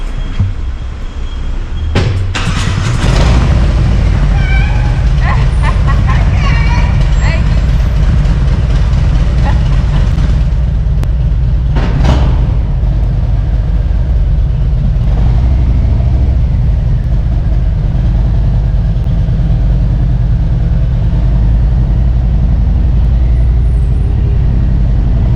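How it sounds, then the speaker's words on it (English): A loud Stage 2 2019 Harley-Davidson Road Glide engine rumbles steadily while riding, with wind rush and a few brief clunks and mechanical sounds early on. "so you can hear the engine of the Stage 2 2019 Road Glide"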